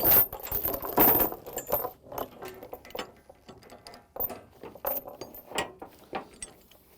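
A binder ratchet being cranked tight on the chain securing a mini excavator, giving a run of close metallic clicks and clanks in irregular bursts, louder early on and then sparser.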